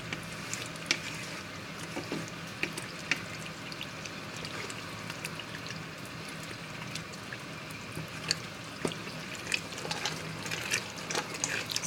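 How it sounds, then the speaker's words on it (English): Spicy Ghanaian shito condiment frying in a saucepan while being stirred, a steady sizzle with scattered crackles and light scraping, moderately close and continuous without speech. "So you keep stirring and stirring."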